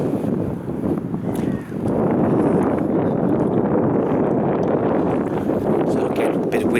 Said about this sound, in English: So again, a bit windy up here at the moment